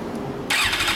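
A 2008 Suzuki GSX-R1100 motorcycle with a Yoshimura US exhaust, its engine catching abruptly halfway through and settling into a loud, close, steady run.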